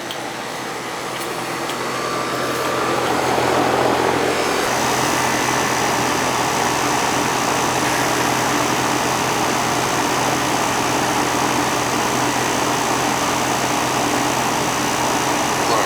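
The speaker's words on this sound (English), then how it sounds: "so that should pull in the condenser" A Trane air conditioner condenser at a newly bought home starts up and runs, a steady loud whir and hum that swells over the first few seconds and then holds constant without break.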